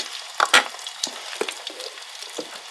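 Egg cooking in a greased pan on a grill, a steady soft sizzle broken by a few sharp crackles and spatters early on, then faint scattered pops, with no talking.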